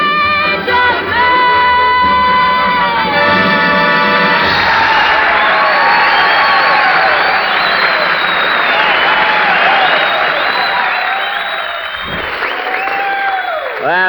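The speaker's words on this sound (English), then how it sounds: "She got more applause than I did." A theater audience at a wartime radio variety show breaks into loud, sustained applause with cheers and whoops that swells and then slowly tapers off, while music continues underneath.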